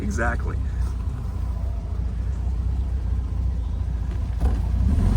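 A 1963 VW 1200 convertible rolling down the road, its engine and tyres giving a steady low rumble heard from inside the car, with wind noise and people talking over it.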